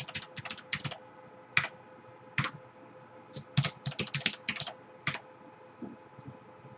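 Password keys being typed on a computer keyboard during a Windows Server 2012 R2 setup: bursts of crisp, close clicks arrive in quick irregular runs separated by short pauses, with no speech.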